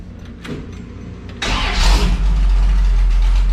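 A Dodge Cummins diesel engine cranks briefly, then catches and roars to life, settling into a loud, deep, rumbling idle close by.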